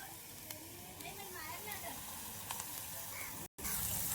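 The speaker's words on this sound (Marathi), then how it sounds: "आता टाकून घेऊ आपण ठेचलेला लसण." Crushed garlic tipped into reddened onions frying in hot oil gives a steady, close sizzling hiss with a voice talking over it, then a brief dropout before the sizzle returns louder.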